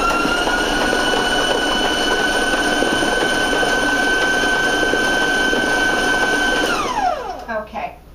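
A stand mixer beats vanilla meringue buttercream at high speed, giving a steady loud whir that holds for several seconds before winding down as it is switched off.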